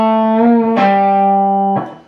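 Electric guitar playing a short riff: a sustained bent note with release, then two sharp picked attacks roughly a second apart, each followed by a held ringing tone, clean and close with no talking.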